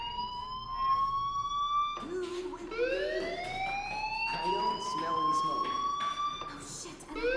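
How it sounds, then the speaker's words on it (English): In the video game Life is Strange, a school fire alarm wails in rising, repeating sweeps that sound like a siren, and voices talk over it in the middle. "Hey, do you hear that fire alarm?"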